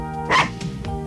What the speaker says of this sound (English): Nice doggy. Good doggy.